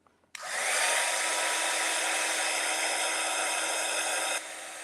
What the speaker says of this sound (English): I can go ahead and use my heat gun, and I'm going to make a little bit of a noise here now.